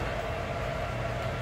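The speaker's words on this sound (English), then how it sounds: "I wanted to get this log train right here." A model log train rolls along its track in a museum display, giving a steady, continuous low rumble with faint clicking, unbroken across the short stretch with no voices.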